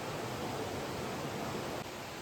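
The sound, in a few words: stream of water flowing near a waterfall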